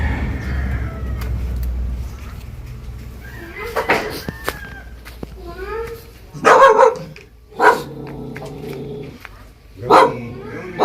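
A pet dog named Brownie barking at a house in short loud bursts, three or four distinct barks spaced a second or two apart, with a person talking nearby between them.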